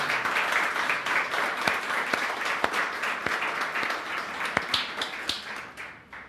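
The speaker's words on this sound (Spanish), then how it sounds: "De una ofrenda de palmas al Señor" Congregation in a church giving sustained applause as an offering to the Lord, dense steady clapping throughout with a few sharper individual claps standing out, fading slightly at the end.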